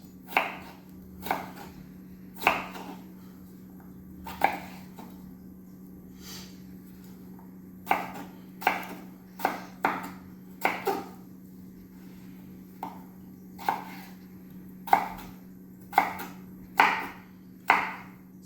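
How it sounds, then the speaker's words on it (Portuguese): Knife chopping potato into small pieces on a board, a series of sharp, irregular close taps with short pauses between bursts, quiet background hum and no talk. "Então eu vou cortar aqui em 2 e daí eu vou cortar em pedacinhos menores."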